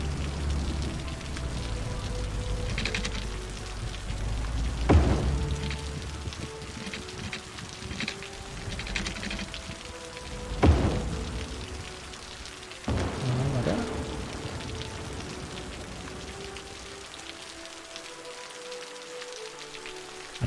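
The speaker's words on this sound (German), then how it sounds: "Der Regen ist schon echt ätzend gerade." Steady rain in the video game Cities: Skylines patters and hisses on a surface throughout, with a few louder gusts or rumbles swelling briefly over the constant downpour.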